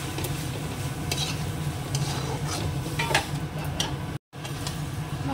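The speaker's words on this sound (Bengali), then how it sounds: "মাংসটা দিয়ে দিয়েছি, এবার মিশিয়ে কষিয়ে দেবো।" Meat and spices, with a little Kashmiri red chilli, stirred and frying in a pan, giving a steady close sizzle with repeated scraping stir strokes throughout.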